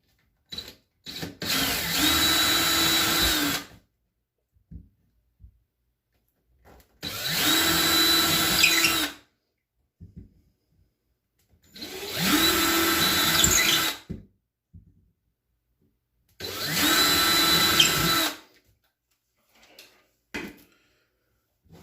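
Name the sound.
drilling holes with a 3/16 drill bit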